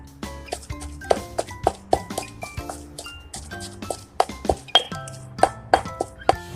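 Tamarind chili paste with shrimp paste being pounded in a mortar, giving a steady run of sharp knocks and ringing clinks, many strikes in an uneven rhythm, close and fairly loud with no talking.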